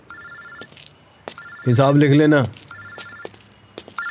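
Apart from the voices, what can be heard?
telephone ringing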